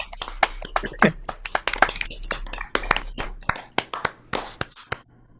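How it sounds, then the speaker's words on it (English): Scattered, uneven hand claps from an audience at an evening showcase reading, a few sharp slaps at a time rather than a full roar, tapering off toward the end. "So the applause is both for what you wrote and how you read it."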